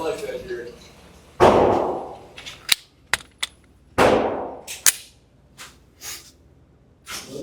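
A Shadow Systems CR920XP pistol firing HST 124-grain rounds at a target seven yards away, several sharp reports spaced irregularly, each with a brief ringing decay, loud and close.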